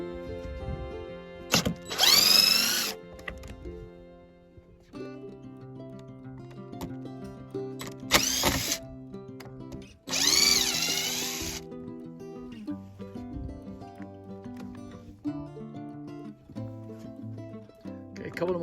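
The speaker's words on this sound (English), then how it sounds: "got the bottom board off. Let's remove the top one here now." A power drill backs screws out of boards on an old church building, with three loud whirring bursts of a few seconds each standing out over steady background noise and faint talk.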